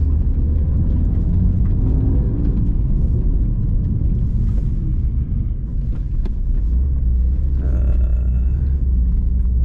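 A loud, low engine rumble from a BMW M4 DTM Champion Edition sports car drones continuously, steady and close, with faint road noise and a brief higher whine near the end.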